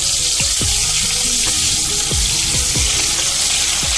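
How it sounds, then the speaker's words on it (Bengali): Chopped onion, bay leaf and dried red chilli sizzling in hot oil in a wok, a steady loud hiss with occasional pops and stirring clatters, close up and without speech. "ফোড়নে দিয়ে দেব তেজপাতা আর শুকনো লঙ্কা, গোটা গরম মশলা দিয়ে দেব, কুচি করা পেঁয়াজ।"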